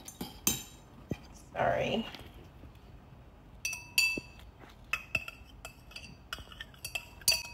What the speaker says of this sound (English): I'm going to stir everything nicely.